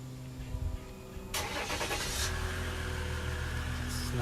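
Truck with dual exhaust starts up close by: a short cranking burst, then the engine catches and settles into a steady, fairly quiet idle.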